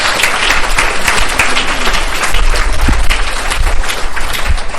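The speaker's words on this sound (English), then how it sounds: "can we just give another round of applause for our, thank you so much." Sustained audience applause fills the room at a grief-in-recovery gathering, a dense wash of many hands clapping steadily and loudly throughout with no speech over it.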